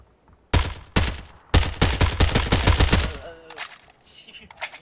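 Gunfire in the battle game PUBG: one sharp shot, then a longer run of rapid automatic bursts, loud and close, trailing into fainter distant shots and faint game sounds.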